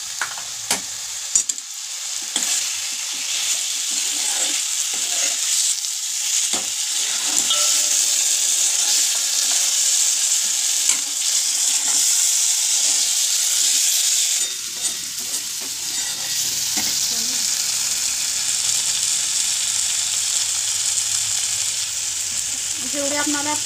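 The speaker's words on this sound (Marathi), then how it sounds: "आता शेंगदाणा कूट केलेलं आहे हे पण आपण यात थोडंसं टाकून घेऊ।" Crushed peanuts hit a hot frying pan while a Maharashtrian drumstick amti cooks, giving a loud, steady hissing sizzle with stirring scrapes that shifts in tone partway through.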